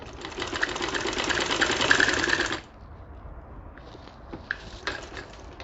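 A sewing machine stitches a decorative design for a gala. It runs loud and steady for about two and a half seconds, then stops, leaving quiet handling noises and a few soft clicks.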